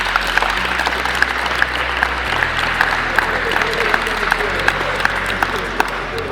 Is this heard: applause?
yes